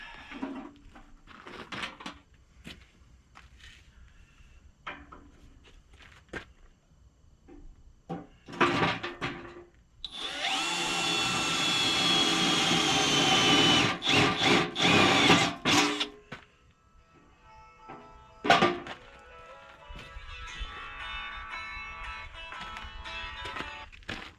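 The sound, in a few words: drilling holes in boxes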